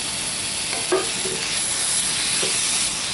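Sliced apples with brown sugar and cinnamon cook in a pan with a steady, close hiss of sizzling and a couple of soft stirring scrapes, no voices.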